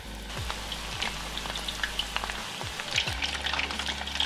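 Chicken bites sizzle in hot oil for a sweet-and-sour dish, giving a steady crackle with scattered popping spatters and a low background hum. No one speaks.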